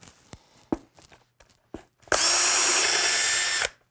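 A cordless power drill runs in one steady, loud burst of about a second and a half, driving screws through plywood into an ottoman seat during an upholstery repair, after a few light handling knocks and clicks.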